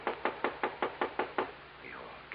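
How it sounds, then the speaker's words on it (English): Seven quick, evenly spaced knocks rap on a door, crisp and fairly close, followed by a moment of quiet room tone in an old radio drama. "20 minutes passed before we heard the knock on the door."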